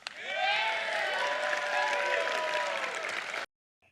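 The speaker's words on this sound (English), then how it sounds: "And the ignorant masses applaud." A crowd applauding and cheering loudly and steadily for about three and a half seconds at a political address on auto tariffs, then cutting off abruptly into silence.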